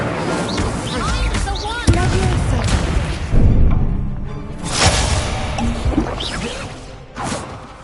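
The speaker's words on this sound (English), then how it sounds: "Incendio." The Incendio fire spell is cast in the video game Hogwarts Legacy, producing booming bursts and whooshing effects amid loud game sounds, with a voice talking over much of it.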